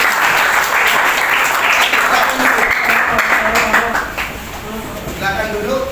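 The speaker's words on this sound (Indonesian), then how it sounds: "Tepuk tangan dulu kita." Students in a high school physics classroom clap together in a dense, lively round of applause that runs several seconds before thinning out, with some voices mixed in.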